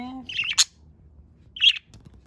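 Pet budgie chirping indoors, a few sharp, close tweets in two short bursts separated by a quiet pause, loud against a soft background.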